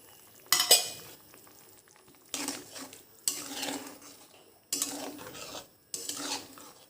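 Ridge gourd being cooked with poppy seed paste in a pan: a spoon scrapes and clanks against the metal in four or five separate bursts of stirring, with quiet gaps between them and faint sizzling underneath.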